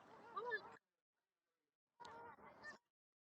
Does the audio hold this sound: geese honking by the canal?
yes